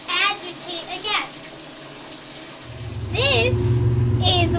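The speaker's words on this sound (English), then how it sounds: "This is what the second draining cycle, where it drains the rinsed water." Rinse water drains from a home washing machine with a steady rushing gurgle that swells louder partway through, while a voice chirps over it.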